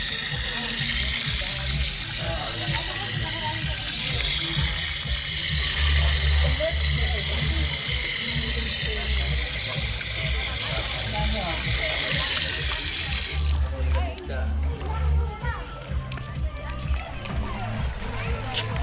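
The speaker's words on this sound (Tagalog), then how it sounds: "punta ako sa gripo muna kasi madumi yung paa ko." Tap water gushes and splashes steadily while someone rinses dirty feet, running continuously throughout with voices talking over it.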